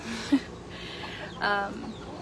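A Laced Cochin hen, a fluffy breed also called the Shanghai chicken, gives a few short, quiet clucks close by, with soft talk in the background.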